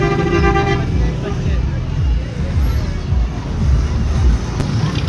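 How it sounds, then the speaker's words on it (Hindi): A wedding procession vehicle sounds a horn and pulls away along a busy street, with steady traffic rumble and crowd chatter all around. "ये बारात की गाड़ी चली गई है।"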